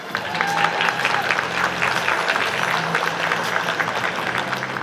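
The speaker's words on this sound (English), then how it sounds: "Give a warm round of applause to saxophonist Warren Thornton." A luncheon audience at a high school female athletes of the year awards event applauds saxophonist Warren Thornton, with dense, steady clapping from a sizable crowd that holds at an even level throughout, with a faint murmur beneath.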